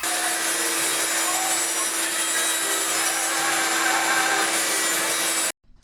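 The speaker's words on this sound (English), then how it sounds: "From here, I just simply cut it out on the bandsaw as close to the line with a nice even cut." A bandsaw cuts a wood lamination along a marked line. The rasping, hissing cut is loud and steady with no break for several seconds, then stops abruptly near the end.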